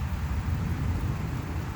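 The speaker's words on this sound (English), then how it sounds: "Thunder in here." Thunder rumbles low and heavy beneath a steady wash of falling rain outdoors, a short dense roar with no voices.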